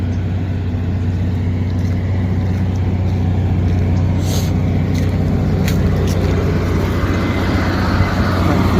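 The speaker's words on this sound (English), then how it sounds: "You can hear the generator" A generator runs steadily beside an RV in a windstorm, a constant low engine drone and hum that stays loud and unbroken throughout, with brief faint high ticks and rustles on top.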